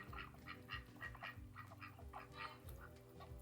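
Ducks quacking in a repeated, chattering series of calls, several birds overlapping at moderate distance, fairly quiet and steady throughout with no talking.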